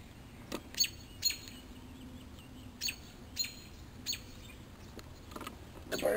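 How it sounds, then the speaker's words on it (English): Agitated birds guarding a nest of babies with three blue eggs, giving sharp isolated chirps every second or so over a steady low background hum, fairly faint and somewhat distant. "The birds are going nuts because they're like, don't touch my babies."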